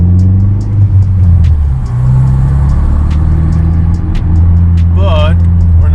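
A car drives slowly along a beach-town street, a loud steady engine rumble inside the cabin with gear-like tonal shifts and brief high chirps, with people talking over it.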